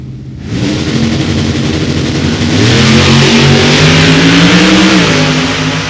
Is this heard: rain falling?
no